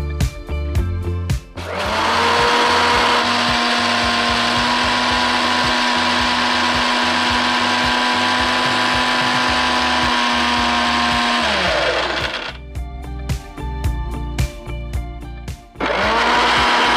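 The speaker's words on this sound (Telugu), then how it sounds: "కొంచెం వాటర్ వేసి బ్లెండ్ చేస్తాను." A mixie blender grinds soaked jowar with water in a steady, loud whirring roar for about ten seconds, with short clattering bursts of handling and stops before and after.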